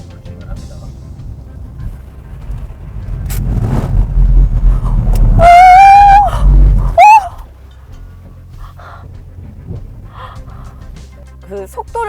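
A car drives a curved stretch of icy road during a winter road-ice test, giving a steady low rumble that swells and stays loud mid-way, broken by a brief high squealing cry before settling back to a quieter hum.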